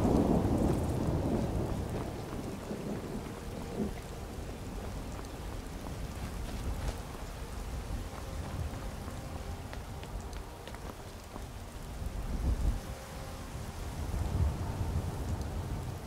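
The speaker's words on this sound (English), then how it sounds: "Oh, it's raining." Steady rain pours in the Skyrim video game, a dense constant hiss of drops hitting surfaces, with low rumbling swells underneath throughout.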